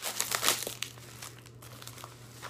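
Close crinkling and crumpling of packaging material as a mailed parcel holding an autographed game-used sports card is opened, loudest at the start then softer rustles, with no talking.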